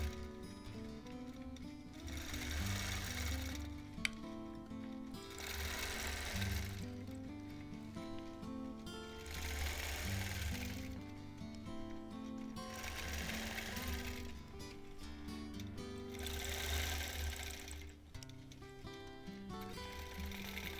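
Steady rapid stitching of a quilting machine working a Double Wedding Ring quilt top in long continuous runs, pausing briefly between passes and restarting, with no speech.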